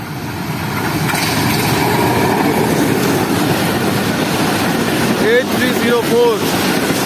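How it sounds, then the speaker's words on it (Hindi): Awam Express passenger train running between Karachi and Peshawar, hauled by locomotive PHA 20, passing close by as a loud continuous roar of rolling wagons, with sharp horn-like tonal bursts near the end. "इस वक्त मेरे सामने से आ रही है कराची और पेशावर के दरमियान चलने वाली 13 अप अवाम एक्सप्रेस"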